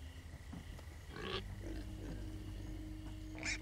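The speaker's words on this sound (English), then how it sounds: "Hey, all pigs but Ruben, shut up!" Pigs in the video game Minecraft Story Mode give several low, nasal grunts and oinks at an uneven pace, quiet and close, with no talking.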